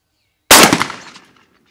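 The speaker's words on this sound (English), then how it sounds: "First one we're gonna shoot is the full choke." A single loud, close shotgun blast fired through a full choke tube while patterning the gun, a sharp crack followed by a rumbling decay that fades within a second.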